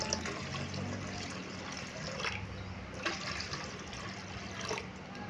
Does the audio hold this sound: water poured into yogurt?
yes